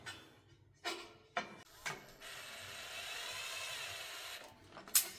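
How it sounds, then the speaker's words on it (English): A few sharp mechanical clicks, then a power drill whirs steadily for a couple of seconds while driving a bolt into a roof rack mount, fairly quiet and close. "get your drill, and line it up with the bolt hole."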